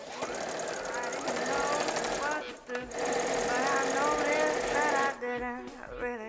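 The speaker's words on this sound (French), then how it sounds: "je vais passer à la machine pour fixer les fronces" A sewing machine runs steadily, stitching gathers along a basting thread with a fast mechanical whirr. It pauses briefly in the middle and again near the end, and a voice talks over it throughout.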